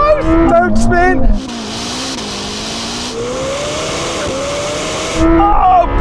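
A Lamborghini Temerario and a Ferrari SF90 launch in a drag race, engines revving hard then a rising, sustained engine whine as the cars accelerate away, with talk over the start and end.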